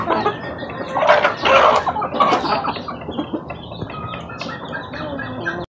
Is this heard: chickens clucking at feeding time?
yes